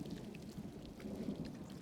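Steady soft rain patters continuously, a dense wash of drops with a low rumbling undertone, fairly quiet and without voices.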